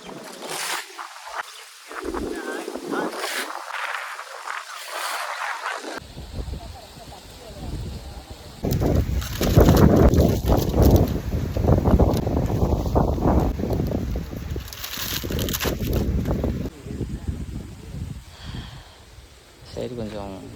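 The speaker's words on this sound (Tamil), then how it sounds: "சரியான காற்று அடிக்குது." Strong wind blows outdoors at a grove where an old-style thatched house is being built, roaring and buffeting the microphone in loud gusts while people talk throughout.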